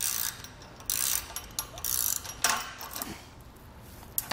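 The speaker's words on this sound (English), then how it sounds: "take a pair of needle nose pliers, we're going to feed the pliers in and clamp down on that lock nut" Quiet, close metallic clicks and ratcheting scrapes as needle nose pliers grip and tighten a lock nut on a trailer, coming in short irregular bursts.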